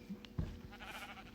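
Sheep bleat in the Minecraft video game near a fenced pen, with one short bleat standing clearly above a steady low background hum.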